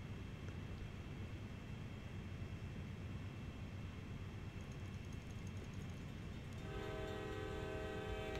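A heavy freight train in Train Sim World climbs a 1.2% grade, its steady low rumble and rolling rail noise continuous throughout, with a horn-like sustained tone joining near the end.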